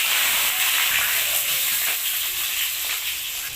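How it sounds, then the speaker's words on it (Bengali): Potatoes fry in hot oil with a loud, continuous sizzling hiss that softens slightly toward the end, heard alone and close. "তেল দিয়েছি, তেলটা গরম হয়ে গেছে। এবার আলুগুলো ভেজে নেব।"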